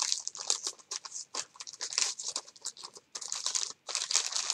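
A soft, dotted turquoise gift bag is handled up close, producing a rapid series of crinkly, rustling bursts with brief pauses and no talking.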